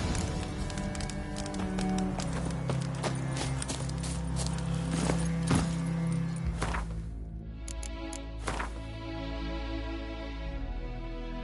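Geralt's horse Roach gallops in The Witcher 3 on PS5, a steady run of hoofbeats laid over game music and ambience, the pounding fading out partway through the clip.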